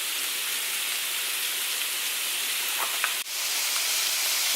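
Sweet potatoes seasoned with a pinch of fresh basil sizzle flat on a skillet, giving a steady, even hiss with a few faint pops and a brief dip near the end.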